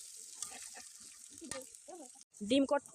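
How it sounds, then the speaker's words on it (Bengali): Onions sauté in a pan for egg korma at an outdoor picnic cookout, a steady hiss with scattered clinks of stirring while people talk nearby. "ডিম কোরমা করতে গেলে পেঁয়াজটা ভালো করে আগে কষিয়ে নিতে হবে।"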